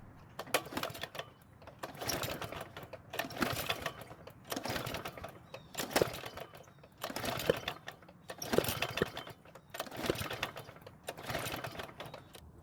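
A flooded Snapper lawn mower engine is pull-started again and again, each yank of the recoil cord making a rapid rattling whir. About seven evenly spaced pulls come through near the microphone with no voices.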